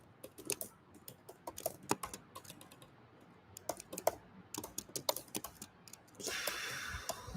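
Fast typing on a computer keyboard during a competitive programming session, a dense run of close, crisp keystrokes in quick bursts with short pauses, ending in a steadier hiss of background noise.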